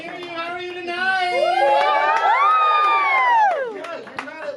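An audience at an evening stage show shouts and cheers, swelling from a moderate roar into a loud, sustained wave of high-pitched screams and whoops before dropping back to scattered voices.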